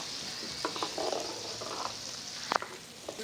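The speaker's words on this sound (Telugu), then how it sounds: "ఆవాలు శుభ్రంగా వేగాయి." Mustard seeds sizzling and popping in moderately heated oil in a kitchen for mango pickle, a soft hiss with scattered quiet crackles and a sharper pop near the end, faint and close with no talk.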